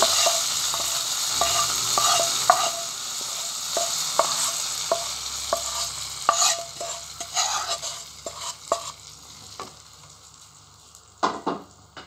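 Browned tempering poured into masoor dal with jute leaves, a loud crackling sizzle with spoon stirring and scraping clicks against the pot, easing toward quieter sputters near the end, with no voices.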